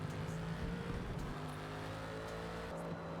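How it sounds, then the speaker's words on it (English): Race car at full throttle on Road America in Forza Motorsport, a loud sustained engine roar holding steady high revs, with a brief shift in pitch partway through. "And then you should be full throttle from here all the way."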